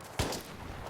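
A single sharp gunshot from the video game Battlefield 3 cracks out close and loud during multiplayer combat, followed by a faint rumbling tail.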